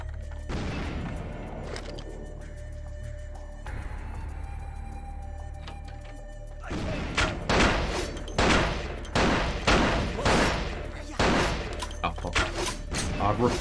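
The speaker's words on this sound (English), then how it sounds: "What is all these explosions?" Cartoonish explosions from the video game Vampire: The Masquerade – Bloodlines, a rapid series of loud booms and bangs in the second half of the clip, following quieter game ambience.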